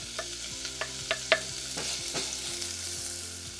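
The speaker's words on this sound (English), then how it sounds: "you're going to want to cook the chopped bacon until done" Chopped bacon frying in a medium saucepan over medium-low heat, a steady close sizzle broken by a few sharp pops and spatters, with no talking.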